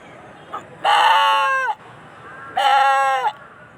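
A voice imitates a goat bleating, with two loud, close, wavering cries separated by a short pause.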